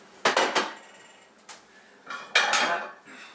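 A dish taken out and set down in a home kitchen while preparing country fried deer steak: close, bright clatters of crockery and utensils in two clusters, a quick rattle of knocks followed by a single clink, then a louder scraping clatter.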